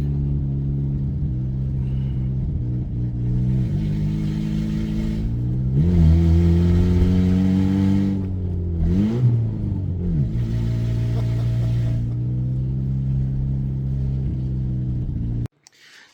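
A 1988 Yugo GVX small car on a test drive, its engine droning steadily inside the cabin and rising in pitch as it revs and shifts, loud and continuous until it cuts off near the end.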